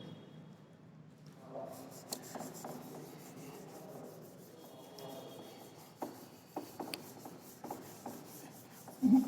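Someone erases a writing board by rubbing it: faint, scratchy strokes with irregular pauses in a quiet room, and a few louder swipes near the end.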